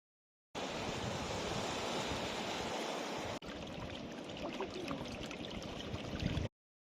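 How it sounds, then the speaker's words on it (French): Waves wash onto a beach at low tide on Île de Ré near the bridge, a steady broadband surf roar with some wind, with no voices heard. "Aujourd'hui, je me trouve sur la plage à marée basse, pas très loin du pont de l'île de Ré"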